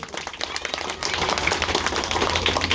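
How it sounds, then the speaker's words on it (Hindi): Children clap loudly at a gathering, a dense, close burst of rapid applause that thickens after the first second and keeps going steadily to the end. "और बाकी सब आप अपनी तरफ से सब बच्चे जोरदार जो ना ताली बजाएंगे"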